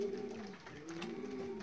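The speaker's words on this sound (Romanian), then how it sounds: "35 de porumbei sosiți la ora asta" Racing pigeons in a loft give low, steady cooing with soft overlapping calls, close and continuous over a faint background hum.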